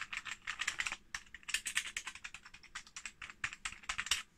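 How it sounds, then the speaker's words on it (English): Keys on a ZX Spectrum Plus home computer keyboard, being reassembled after repair, are pressed in rapid, irregular clicking bursts, close and clear, with no talking. "just check the keys are pretty much lined up"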